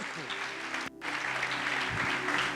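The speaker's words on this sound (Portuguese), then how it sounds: "Palmas para o Levi e para a Rafa," Applause from a congregation at a prophetic church conference, steady clapping with a brief cut near the start, mixed with crowd noise and some voices.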